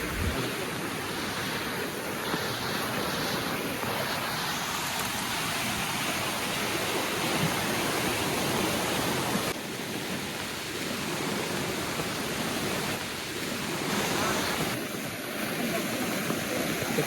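A swollen stream rushes through a flooded Konkan village, a steady loud roar of churning water that never lets up, with no voices.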